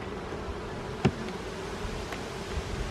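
Honey bees buzz steadily around an open hive during a brood inspection, a soft continuous drone with a brief louder knock or tap partway through and no talking.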